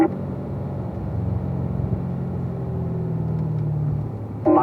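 A race car on a track runs at high engine load, a loud, steady low drone with a gradually shifting pitch, heard up close from onboard, with a brief sharper burst at the very end.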